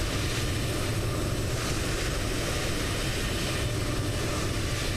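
Fenix A321 airliner sounds in a flight simulator game: a loud, steady, broadband roar of engines and airflow that holds unchanged throughout, with no voices over it.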